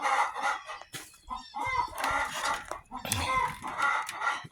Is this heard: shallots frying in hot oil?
no